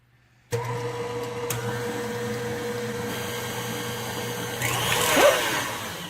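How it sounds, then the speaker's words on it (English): Kitchen blender whirring steadily as it purees a chocolate cheesecake filling until smooth, a constant motor drone that swells slightly near the end with no voices. "you're going to set that on to blend up until it is all completely smooth"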